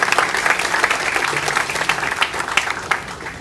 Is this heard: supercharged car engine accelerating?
no